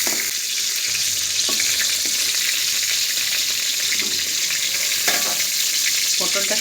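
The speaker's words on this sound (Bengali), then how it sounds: "এবার আমি তুলে নেব" Pointed gourd (potol) fries in hot oil with a loud, continuous close sizzle, broken by a few sharp clinks and scrapes of a utensil in the pan.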